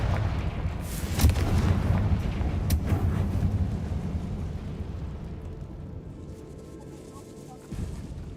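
Confringo blasting spell explosion in Hogwarts Legacy: a booming blast with a sharp crack, then a long rumbling decay that fades, followed by a softer thump near the end.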